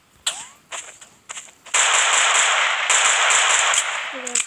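Automatic gunfire in the mobile shooter Special Forces Group 2 during a capture-the-flag match: a few sharp shots, then a loud, continuous burst of rapid fire lasting several seconds.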